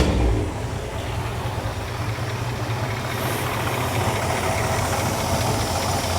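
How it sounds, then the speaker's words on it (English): A car engine runs at a steady idle after starting, a continuous low rumble with a faint knocking texture, fairly close and alone with no talk, on a car being set up by adjusting its idle mixture screws. "now we can start the car"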